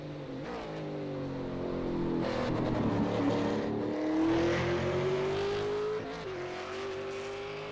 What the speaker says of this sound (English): one of the Aloha KRF cars going past